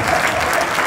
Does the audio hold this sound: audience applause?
yes